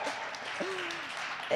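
An audience gives brief applause for a married couple marking sixteen years together, a short spread of clapping at moderate distance with a voice briefly rising over it.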